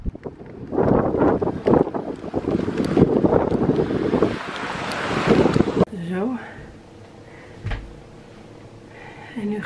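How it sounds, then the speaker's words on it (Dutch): Strong wind buffets the microphone in loud, roaring gusts for several seconds, then drops to a quieter outdoor rumble with a brief voice and a thud. "Het waait heel hard nu."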